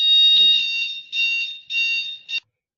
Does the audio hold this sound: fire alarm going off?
yes